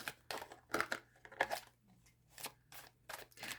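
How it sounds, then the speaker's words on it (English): Tarot cards being shuffled by hand, a series of quick papery riffles and soft slaps in short bursts, close and fairly quiet with no talking. "I did shuffle these cards really good, but I just want to do it again just to make sure."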